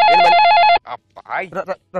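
A telephone rings loudly with a warbling electronic trill for under a second, then stops as a voice starts talking close by.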